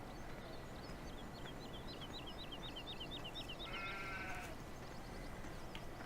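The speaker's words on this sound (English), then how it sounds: "And here's the sheep." Sheep bleat in Farming Simulator 2017, a couple of moderate calls over a steady hiss of game ambience, with rapid bird chirps repeating in the background.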